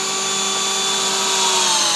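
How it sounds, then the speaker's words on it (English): A power drill drives a nail into a baseboard with a steady, loud whine held for the whole two seconds, close up and without pause. "use the drilling machine, and I'm going to fix the nail holding the bush"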